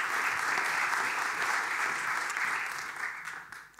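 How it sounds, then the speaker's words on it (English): An audience at a smart and shared mobility masterclass claps for a guest called up to speak, dense steady applause that fades toward the end. "Give an applause to Angelo."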